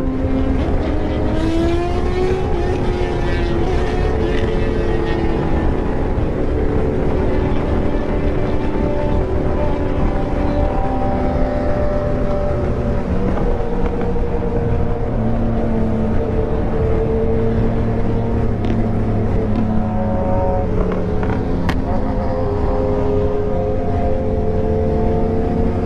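A Suzuki Hayabusa motorcycle speeds along the highway from Delhi toward Agra, its engine a loud continuous roar with tones climbing and shifting as it accelerates, wrapped in steady wind noise.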